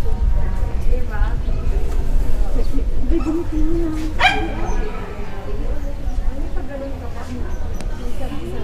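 Dogs yip and whimper at a roadside stop on a motorcycle ride through cold Tagaytay, Cavite, heard against steady wind and traffic rumble, with people talking over them.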